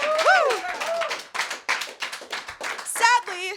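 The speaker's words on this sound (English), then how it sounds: "Let's get a clap." Audience clapping at a comedy roast, a burst of hand claps mixed with whoops and voices, fairly close and lively, with talking over it.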